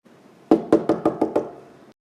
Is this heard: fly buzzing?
no